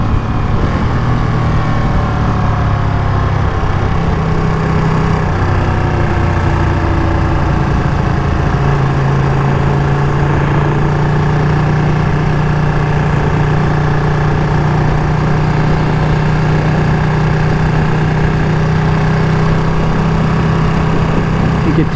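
A brand-new 2023 limited-edition Ducati Panigale V2 Troy Bayliss on the road, still on its first miles, its engine droning loud and continuous with shifting pitch through gear changes and downshifts, mixed with wind rush.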